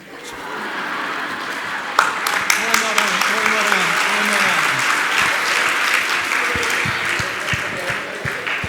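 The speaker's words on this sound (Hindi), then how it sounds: "कितना बढ़िया तालियां बजा रहे हो आप लोग।" An audience at a Hindi religious talk claps steadily in a dense, continuous patter, with a few sharper individual claps standing out and voices talking faintly underneath.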